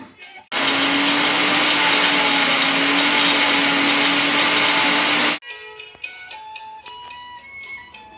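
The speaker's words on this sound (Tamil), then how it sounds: "இப்போ வறுத்து வச்சுருக்கிற வரமிளகா தேங்காய் அது கூட கொஞ்சம் உப்பு போட்டு அரைக்கிறேன்" An electric mixer grinder whirs loudly for about five seconds as it grinds roasted red chillies, coconut and salt, then stops abruptly, leaving quiet kitchen clatter and a faint tonal ring.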